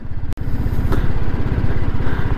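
A BMW G 310 GS motorcycle ridden on a highway: a steady, close engine drone with a pulsing low rumble, interrupted by one sharp thump early on.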